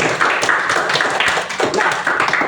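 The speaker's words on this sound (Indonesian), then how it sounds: "Tepuk tangan adik-adik sekalian." Students clap their hands in a classroom lesson on Islamic history, a steady run of sharp, close slaps lasting a couple of seconds with no talk over it.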